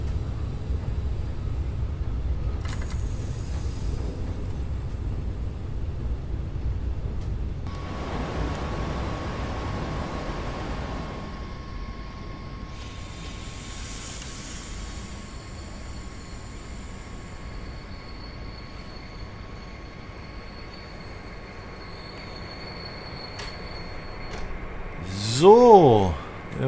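Train in Train Sim World 22 rolling on rails, a steady low rumble lasting throughout with a hissing wash midway, a long faint tone and a brief louder clatter near the end.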